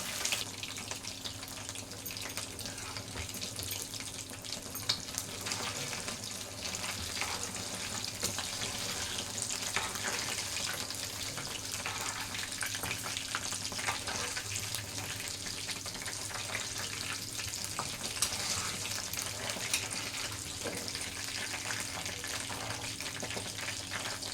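Chicken pieces fry in hot oil in a pan for a chicken 65 dish, a constant dense crackling sizzle that continues steadily and evenly throughout without any voices.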